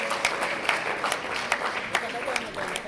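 Applause at a Burundian drumming performance, a steady patter of many hands with a crowd murmuring beneath and a few sharper claps standing out every half second or so.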